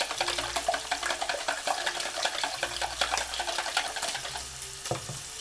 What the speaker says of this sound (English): Kind of give this another quick whisk.